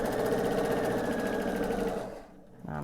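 A sewing machine stitches quilt pieces, a loud steady mechanical whir with a rapid needle rhythm that slows and stops near the end before briefly starting again.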